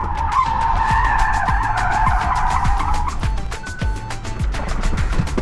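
An electric car's tires squeal loudly in a long sustained screech through a tight turn, then shorter squeals follow over a steady engine rumble, close by.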